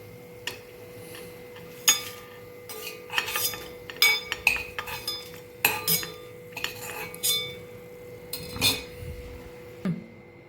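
Fried green chillies lifted out of a pan with a metal utensil, a series of sharp clinks and scrapes at irregular intervals over a quiet background.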